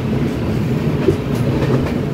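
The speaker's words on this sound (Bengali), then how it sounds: "মোটামুটি ট্রেনের স্পিড আছে" A train running at speed, about 110 to 115, heard from on board as a loud, steady rumbling roar with faint rail clatter and no talking.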